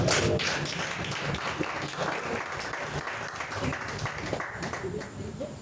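A church congregation claps and applauds, a dense, steady wash of many hands heard from within the room that fades slightly toward the end, with voices mixed in.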